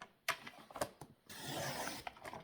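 A blade cuts through an 18 cm sheet of paper, a few sharp clicks and taps followed by a longer rasping slice, then more faint clicks, close and quiet.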